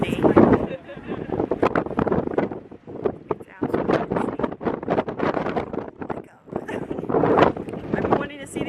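Strong wind buffets the microphone on top of sea cliffs in Ireland, a rough gusting roar that surges and dips while people talk over it.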